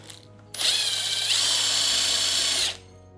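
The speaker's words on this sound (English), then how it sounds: "we're going to want to go ahead and take off the end weight, handlebar weight, and that's a T35" A power tool drives out the T35 Torx bolt holding a handlebar end weight on a Kove 800X Pro motorcycle. It makes a single steady whirring burst of about two seconds, starting and stopping sharply, close and alone.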